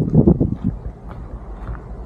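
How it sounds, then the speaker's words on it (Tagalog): Low, steady rumble of strong, cold wind buffeting the microphone at Crescent Head, New South Wales, with gusty bursts near the start that ease into a continuous blustery roar. "Masyado lang hangin, malamig."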